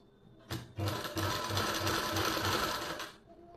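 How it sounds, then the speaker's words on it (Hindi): A sewing machine runs steadily for about three seconds, stitching along a fabric neckline, with a brief start just before the main run and a rhythmic low mechanical thump beneath the buzzing whir. "मैं यहाँ से सिलाई लगाऊंगी और फिर यहाँ से सिलाई लगा के इसको ऐसे और एक्स्ट्रा फैब्रिक को कट कर लेंगे।"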